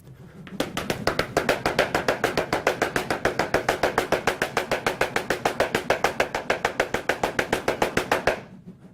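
Battle ropes whipped in a hero wave, slamming the ground in a steady, fast alternating rhythm of sharp slaps for about eight seconds, close and loud with no talking.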